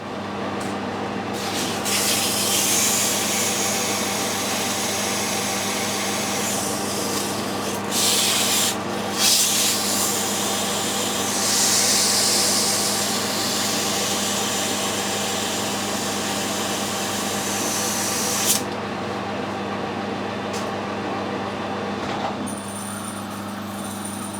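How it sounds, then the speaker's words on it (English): A steady abrasive rubbing drones for about twenty-four seconds while a drive shaft spins on a mini lathe for a quick polish, the lathe motor humming beneath it, with a brief break near nine seconds and no talking. "I'm going to give it a quick polish just to make sure that the pulley is a good fit on there"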